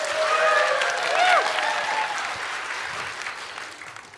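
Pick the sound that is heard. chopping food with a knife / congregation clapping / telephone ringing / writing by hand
congregation clapping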